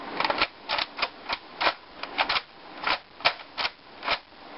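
A rapid series of sharp mechanical clicks and clacks, irregular but steady, as the plastic locking bolt of a modded Nerf Longstrike CS-6 toy blaster is racked back and forth up close, with no voices.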